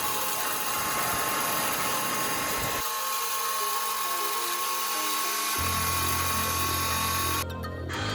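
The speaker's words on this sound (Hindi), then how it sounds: "इन सारे स्पाइसेस को मैंने ग्राइंडर में डाल के ग्राइंड कर लेना है, ताकि मेरे पास ये स्पाइसेस पाउडर फॉर्म में आ जाएं।" Electric grinder pulverizing whole spices into powder for Kabuli pulao, a loud steady motor whine with shifting pitch through several bursts, ending abruptly; no talk.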